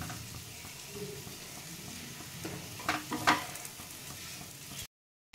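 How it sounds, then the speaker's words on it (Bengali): Grated paneer hits a hot pan for paneer bhurji and is stirred, giving a soft sizzle with scraping strokes that build toward a few louder stirs before cutting off. "গ্রেট করা পনিরটা দিয়ে দিচ্ছি।"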